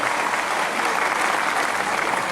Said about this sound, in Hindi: जोरदार तालियां बजाकर अभिवादन करें